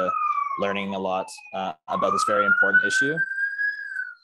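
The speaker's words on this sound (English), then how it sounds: "sorry for the sirens in the background. I live close to a busy street." Emergency vehicle siren from a busy street, a rising wail running behind close conversational speech throughout.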